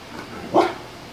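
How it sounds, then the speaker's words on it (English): A dog gives a single short bark at moderate distance over faint background noise, outdoors while a hot air balloon passes. "I think Coda quit barking because he got the camera out."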